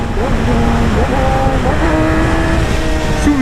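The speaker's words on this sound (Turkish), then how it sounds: "ses düşürme sesi efsane" A loud motorcycle engine revs and drops through falling pitch steps as it downshifts through the gears, the roar steady and close throughout.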